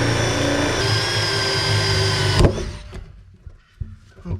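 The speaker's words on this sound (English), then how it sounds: "now we're gonna use a drill with a Forstner bit" A power drill fitted with a Forstner bit bores vent holes into a plastic rainwater barrel, a steady high whining grind that stops abruptly partway through, leaving a few faint knocks and handling sounds.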